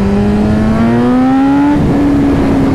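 A BMW S1000RR superbike engine revs hard and climbs in pitch, then snaps through a gear shift and holds a loud, steady, close-up drone.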